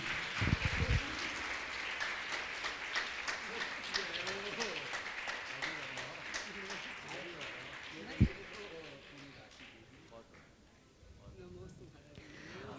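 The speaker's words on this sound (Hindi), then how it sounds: "जोरदार ताली तो बजाओ इंदौर वालों के लिए।" Audience at a Jain religious gathering with a Jain monk applauding, a steady broadband wash of clapping through most of the clip that fades toward the end, with a voice audible over it.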